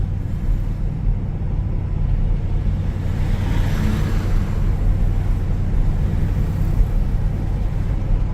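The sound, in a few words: 1975 Oldsmobile Cutlass driving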